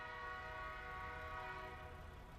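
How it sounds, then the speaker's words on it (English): Freight train in a trucking video game, a steady horn-like tonal drone with rumbling low end, sustained throughout at moderate level. "it actually sounds like a freight train"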